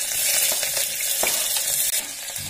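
Chopped onions fry in hot mustard oil, giving a loud, steady sizzle with occasional stirring clatters throughout.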